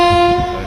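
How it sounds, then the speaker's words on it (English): Trains in India roll slowly along a track past derailed, mangled carriages after a major rail disaster, a loud steady horn tone sounding close over a low rumble. "trains slowly travel the same track, past derailed and mangled carriages"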